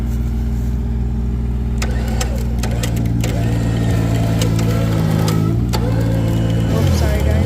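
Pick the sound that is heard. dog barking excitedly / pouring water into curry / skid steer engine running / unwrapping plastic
skid steer engine running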